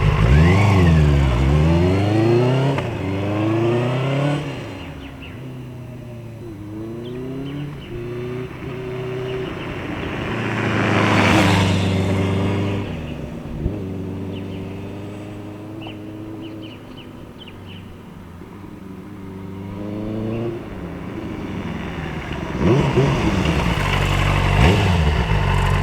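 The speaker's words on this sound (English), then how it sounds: "Now let's record a flyby on this bike." A 2023 Benelli TNT600i motorcycle engine revs up and down repeatedly, rising pitch sweeps as it accelerates past, fading between passes and swelling again, fairly close.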